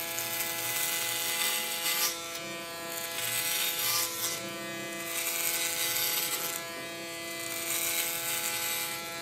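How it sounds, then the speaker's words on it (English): Electric hair clipper with a 12 mm guard cutting hair on top of a woman's head, a steady close buzzing whine with rhythmic rasping swells as it passes through the hair. "I have a clipper that has a about 12 millimeters, and that's what's going to use on top of her head."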